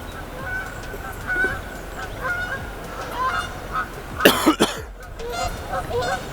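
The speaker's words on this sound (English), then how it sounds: "Some geese flying around, sounds absolutely gorgeous." Geese honking as they fly low over a lake beside a fly-fishing spot: scattered calls across the stretch, then a loud, close burst of several honks near the end over steady outdoor background.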